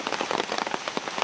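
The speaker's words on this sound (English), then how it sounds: "the rain's kind of let up just a little bit." Steady rain patters on a surface outdoors at night, a dense, even wash of droplet hits with no voices.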